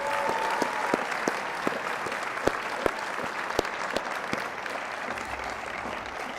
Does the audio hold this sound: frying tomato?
no